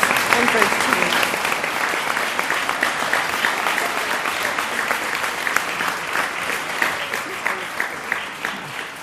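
An audience at a university debate final applauds warmly and steadily, a dense wash of clapping from a large crowd that holds for the whole stretch.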